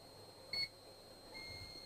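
A Pyronix Euro-46 alarm panel gives a single short, faint electronic beep as a fob key switches the alarm off, in an otherwise quiet room.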